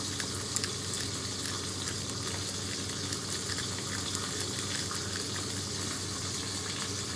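Birds frying in a hot pan give off a steady, dense sizzle and crackle with small pops, loud and close throughout, with no voices.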